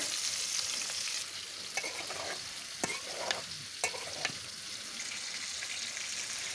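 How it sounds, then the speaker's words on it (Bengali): Drumstick vegetables are sautéed in a pan after fish was fried, a steady crackling sizzle broken by several sharp spatula scrapes and taps in the middle. "এখন আমি আরও একটু কষিয়ে নেব"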